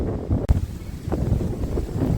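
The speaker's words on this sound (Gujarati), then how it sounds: "પવન વાવાઝોડું ફૂલ ભયંકર બાકાજી બોલાવે છે" A strong evening storm wind gusts hard under dark clouds, roaring and buffeting the microphone, with one sharp thump near the start.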